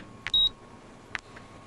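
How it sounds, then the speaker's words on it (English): A 1980s-era computer terminal gives two faint electronic beeps, a steady tone about a sixth of a second long followed a beat later by a brief blip, over a quiet room hiss. "my terminal beeped for the 100th time."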